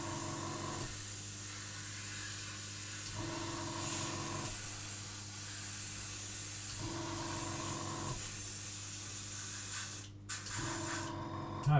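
An airbrush sprays acrylic paint on a scale model, a close, steady hiss that pulses in several bursts separated by brief pauses.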